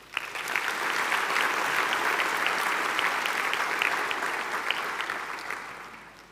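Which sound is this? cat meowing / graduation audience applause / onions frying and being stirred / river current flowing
graduation audience applause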